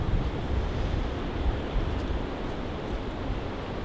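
Strong, cold wind roars and buffets the microphone in a constant low rumble, with gusty surges and no voices, in Newnes near Lithgow.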